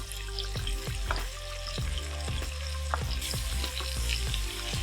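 Onion and garlic frying in bacon fat for a potato salad, a close, continuous crackling sizzle with repeated scraping stirs, no talking.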